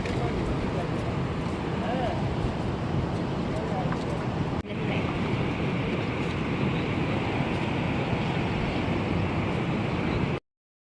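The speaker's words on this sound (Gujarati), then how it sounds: "તો મિત્રો અત્યારે ફૂલ પાણી નદીમાં આવી ગયું છે." Floodwater from a river swollen after twelve hours of nonstop rain surges beneath a bridge in Gujarat, a steady, loud broadband roar that continues unbroken through the clip with only a brief dip midway.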